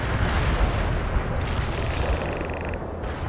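Heavy artillery barrage in the video game World in Conflict: a dense, continuous rumble of booming shell impacts, steady and loud throughout, with no talk over it.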